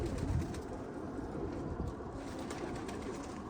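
Pigeons kept as pets coo softly and repeatedly at close range, low rolling calls over a faint background rustle.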